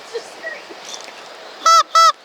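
A squeaky rubber chicken toy lets out two loud honking squonks in quick succession near the end, goose-like and close, after a stretch of quiet background murmur.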